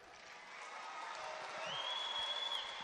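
A boxing crowd at a European championship semifinal in Tbilisi reacts as a round ends, a distant, swelling murmur of cheers and applause that builds gradually, with a faint whistle near the end.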